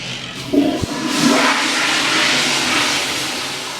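A motion sensor toilet flushes with a sudden loud whoosh that swells into a sustained roaring rush of water, close and alone.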